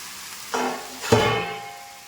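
Country chicken sautéing with onions in a pan for chicken curry, two quick bursts of sizzling as pieces hit the hot oil, then a fading hiss.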